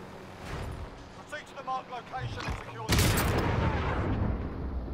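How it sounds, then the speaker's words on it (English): Gunfire from Call of Duty: Modern Warfare, with a loud burst of shots and explosion-like blasts erupting midway and sustaining to the end, following quieter game noise and faint tonal sounds. "Yeah, you're getting shot at, huh?"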